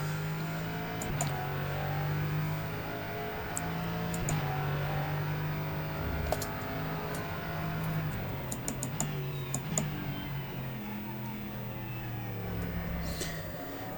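Race car engine in the rFactor 2 sim racing game, a steady droning tone stepping through gear changes with brief tyre squeal and faint clicks, no talking.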